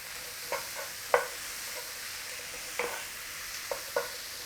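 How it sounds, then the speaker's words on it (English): Beef mince with onion, tomato and chili frying in a pan while a spoon breaks it up, heard as a faint steady sizzle broken by several scraping stirs and knocks, close and without speech. "Start to break your mince up in there"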